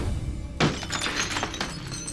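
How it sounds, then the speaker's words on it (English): Window glass smashed to break into a house: a sudden loud crash at onset, followed by scattered tinkling and clattering shards over the next second and a half, close and alone. "Busted out the glass."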